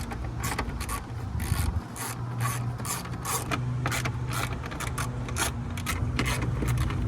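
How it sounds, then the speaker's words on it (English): A ratchet wrench unbolts the plastic grille from a car, producing a steady rapid clicking and rasping that continues close up throughout. "we want to take off all these bolts right here that are all connecting it down"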